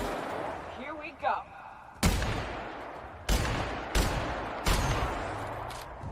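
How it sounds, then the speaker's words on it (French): Sharp, loud gunshots in a warehouse in the video game The Outer Worlds ring out one at a time, about four blasts with short gaps, over a quiet background and a brief voice. "T'as des coups de feu dans l'entrepôt et ils entendent pas."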